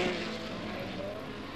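Racing cars at Silverstone, a McLaren among them, roar past in a loud, continuous engine wash that holds steady for a moment and shifts slightly in pitch.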